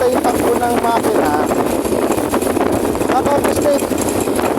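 A Racal MD100 motorcycle engine runs after a fuel line cleaner treatment, a steady buzzing idle heard under someone talking nearby, with faint whistling tones over the engine.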